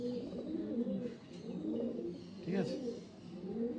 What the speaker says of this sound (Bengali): একদম তেলেঙ্গানা ফুলশিরা পায়রার বাচ্চা দুটো